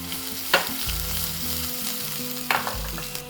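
Chopped garlic fries in hot oil with tempered cumin, mustard seeds, lentils and green chilli, crackling in a continuous close sizzle, broken by two sharp clinks of a spoon stirring the pan.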